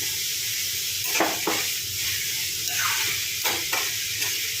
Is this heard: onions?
yes